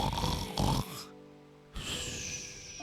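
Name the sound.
voice imitating snoring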